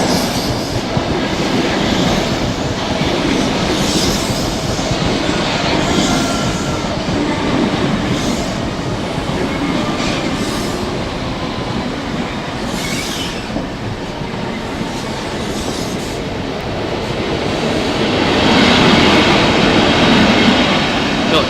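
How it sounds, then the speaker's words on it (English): Passenger train on the 11:44 service to Norwich pulling into Ipswich Station, a continuous rumble of wheels with clickety-clack over rail joints and faint squeals, steady and fairly close throughout. "we got the 11:44 service to Norwich now, arriving to Ipswich Station"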